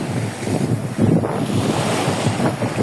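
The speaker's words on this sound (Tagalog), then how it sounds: "Ayan po yung falls." Tumiis Falls, also called Alabat Falls, the main waterfall: a steady, loud wash of falling water with a broad roar and gusty rumble, continuous throughout with no talking.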